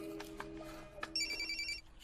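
A telephone ringing in a film scene, with a repeated electronic ring tone entering after a moment of short knocks and rustle, fairly close and clear with no talk over it.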